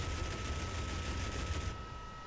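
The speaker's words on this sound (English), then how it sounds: "I'm going to hold it in all the way, and it's going to start firing the cannon along with it." Aircraft machine guns and cannon fire together in the DCS World combat flight simulator, making a dense, continuous rattling burst that holds steady for most of the moment and then cuts off, leaving a quieter background hum.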